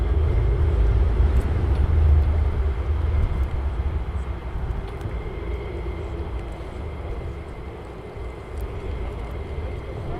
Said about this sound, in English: this bird running engines is absolutely beautiful